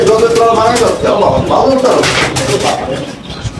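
Fancy pigeons coo in a loud, steady stream of throaty calls, several birds overlapping close by, with a voice talking over them.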